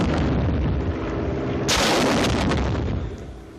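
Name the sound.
aerial rockets being fired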